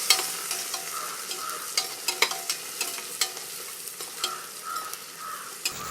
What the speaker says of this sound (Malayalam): ഒരു ഉള്ളി മുഴുവനായിട്ട്, അരത്തക്കാളി ഫുള്ളും, പിന്നെ ഒരു അര തക്കാളി ഇതൊക്കെ ഇട്ട് നന്നായിട്ടൊന്ന് ഇളക്കി